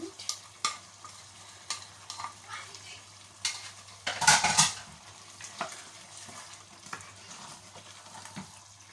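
Salted tilapia fries in a pan while being stirred, a steady sizzle broken by regular utensil clicks and scrapes, with one louder clattering burst partway through.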